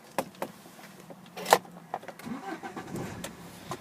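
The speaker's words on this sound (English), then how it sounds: "No problem starting the vehicle at all" A BMW 520D M Sport with push-button start fires up, a few faint clicks and thumps leading into a short engine start, quiet and close with no talk.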